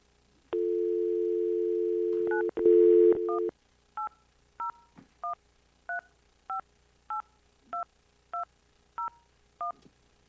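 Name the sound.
telephone dial tone and dialing tones when calling back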